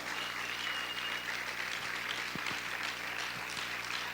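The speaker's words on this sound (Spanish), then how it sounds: "Aplaude fuerte al Señor." A church congregation applauds at a sermon, with steady, dense clapping from a crowd filling the space at moderate loudness, a few sharper individual claps standing out.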